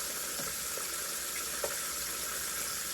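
Chicken livers crisp in a hot pan of oil, sending up a steady, dense sizzle with a few small pops and crackles scattered through, close and even throughout.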